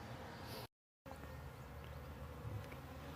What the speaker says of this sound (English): a swarm of bees.